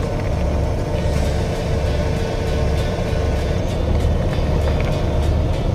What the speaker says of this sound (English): when I turn the steering wheel all the way, or not even almost all the way, it makes that power steering noise